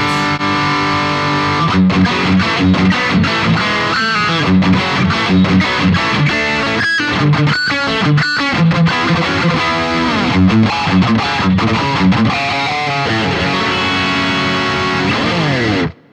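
An electric guitar plays a metal-style phrase through a BOSS GT-1000 processor with its Blues Driver distortion engaged, thick and saturated chords and riffs ringing loud and continuous before stopping abruptly at the end.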